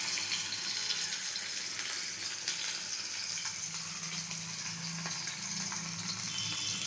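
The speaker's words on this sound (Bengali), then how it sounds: "মাছ ভাজা শুরু হচ্ছে।" Fish pieces frying in oil in a pan covered with a glass lid, giving a steady, even hiss of close sizzling that stays constant with no talk.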